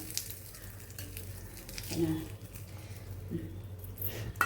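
Hot tempering poured into banana stem chutney (vazhaithandu thuvaiyal) in a Tamil home kitchen, giving a brief loud sizzle that bursts up and fades, with a second small crackle later over low kitchen background.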